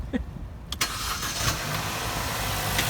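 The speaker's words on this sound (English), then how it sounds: "We're going to start the engine." A 2011–2018 Chevy Cruze engine cranks briefly and catches, then settles into a steady, fairly quiet idle hum with no talking.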